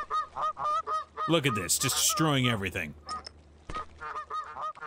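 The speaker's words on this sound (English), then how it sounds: "Get out of here, geese." Canada geese honk repeatedly in a video game, a noisy flurry of loud calls in bursts, with someone talking over parts of it.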